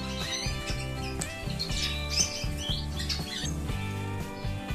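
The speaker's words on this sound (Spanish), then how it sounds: "ahí están los jilgueros" Caged goldfinches and canaries chirp and squawk in a busy, overlapping chorus during breeding season, with sharp repeated calls and trills close by and no voices.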